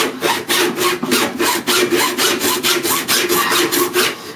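A hand saw cutting through wood in steady back-and-forth strokes, about four per second, close and loud with rasping texture.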